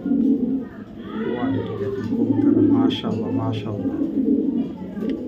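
A male racing pigeon from a racing club coos in low throaty calls under steady nearby talking, with a few faint chirps in the background.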